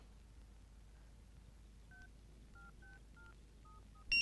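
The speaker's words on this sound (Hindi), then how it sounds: "चल रोहित को फोन लगा दे" A series of faint telephone keypad tones, about seven short beeps at an uneven pace, in an otherwise quiet room.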